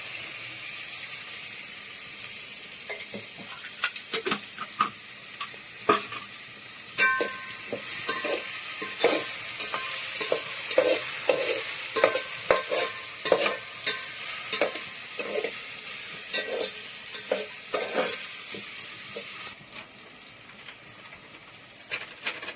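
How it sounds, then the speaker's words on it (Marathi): Onions fry in oil with a continuous hissing sizzle, joined by bursts of spattering and stirring clatter that thicken in the middle and ease off toward the end. "या कांद्यामध्ये आता तेल टाकणार आहोत म्हणजे कांदा चांगला तळून निघेल"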